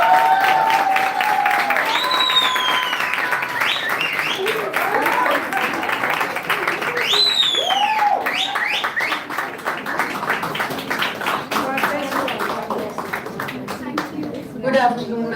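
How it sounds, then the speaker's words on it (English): An audience claps at a university convocation ceremony, a steady, moderately loud patter of many hands with voices and announcement speech running over it throughout. "You all can applaud for them."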